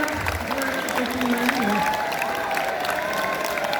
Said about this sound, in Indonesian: Aplaus buat Bulas Maida